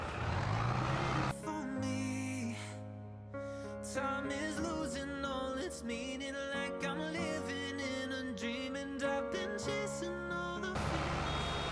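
Fill-level alarm on a baler in Farming Simulator 22, a steady electronic beeping tone running over droning machine hum throughout, loud and continuous with strong tonal layers.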